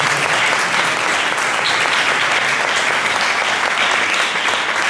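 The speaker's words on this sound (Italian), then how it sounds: "vi fare un grandissimo applauso." Steady, dense applause from a jazz concert audience at the Gesualdo in Jazz festival, loud and continuous throughout with no voices over it.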